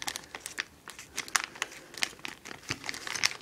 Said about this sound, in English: Let's see if I can actually get this open. Hold on, I'm going to have to cut through the part in the middle